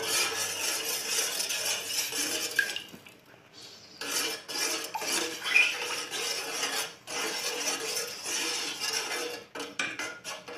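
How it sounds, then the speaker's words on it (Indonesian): Coconut milk thickened with a cornstarch slurry is stirred in a pot, the spoon scraping and knocking against the metal in a steady, close scratching rhythm with a few brief pauses. "Jadi kita aduk sampai santan ini sedikit mengental."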